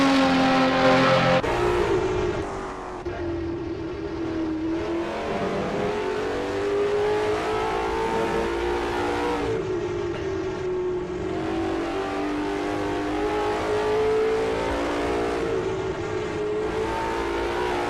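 A Group C, Group 5 or Group A race car screams through the Porsche curves at Le Mans in a 1985 setting, its loud, close engine note rising and falling steadily with each gear and turn.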